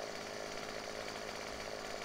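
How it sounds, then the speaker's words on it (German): Chainsaw in the Farming Simulator 15 game, cutting wood, a continuous buzzing roar held at a steady level with no talk. "Machen wir mal die Säge weg."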